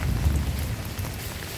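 Steady rain falls outdoors during a downpour after school, a dense continuous wash of drops with a low rumbling undertone, fairly close and even throughout, with no voices.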